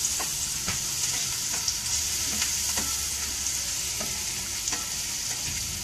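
Garlic is stirred in a hot frying pan for beef stroganoff, a steady close sizzle with regular scraping strokes of the utensil across the pan, and no talking.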